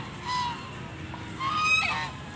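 Ducks at Karachi zoo giving a few honking calls in two bursts, moderately close over outdoor background noise, with no talking.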